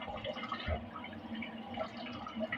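Water is poured into a cooking pot for pork sinigang, a soft continuous splashing and trickling with small drips, fairly quiet and close.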